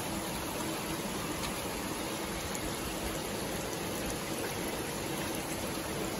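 Water pours steadily into a tank of fingerling fish on a fish farm, making a constant, fairly quiet rushing hiss with no pauses.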